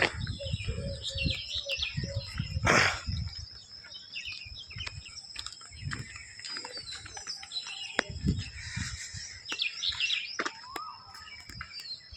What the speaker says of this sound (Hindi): कोयल की आवाज़ बहुत ही मुग्ध कर दे रही है कानों को।